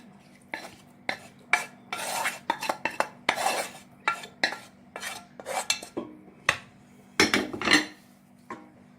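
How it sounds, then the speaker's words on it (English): A spoon scrapes and pats vegetable curry across the bottom of a cooking pot while layering a vegan vegetable dum biryani, a dozen or so short, irregular, fairly close scraping strokes with no talking. "just spread the curry a little"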